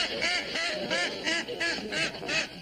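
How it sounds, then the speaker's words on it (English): A group of ducks quacks close by in a rhythmic series of about seven nasal honking calls, with no voices over them. "some fella came over with a bunch of ducks to see Mr. Kimball."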